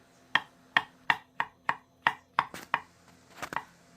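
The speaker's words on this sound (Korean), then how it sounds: "송송송 썰어줍니다." Two shiitake mushrooms are thinly sliced with a knife on a cutting board, making about ten crisp, evenly spaced taps in quick rhythm. The taps are close and clear against a quiet background, with no one speaking.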